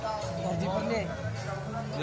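Busy crowd bustle at the Ram Navami fair in Arnala, Virar, a steady murmur of many voices with nearby talk running throughout.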